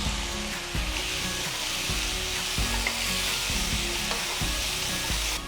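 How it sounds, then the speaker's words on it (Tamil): Chopped tomatoes sautéing in a pan of ginger-garlic masala, a steady loud sizzle with regular stirring scrapes repeating throughout, no talk. "நெக்ஸ்ட் 3 பொடியா நறுக்கின தக்காளி போட்டு வதக்குங்க."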